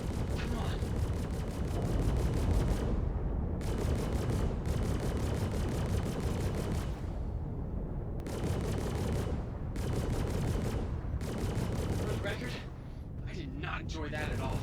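Ship weapons on a Drake Clipper fire in Star Citizen, loud sustained bursts of gunfire in several long volleys separated by brief pauses, filling the scene without talk.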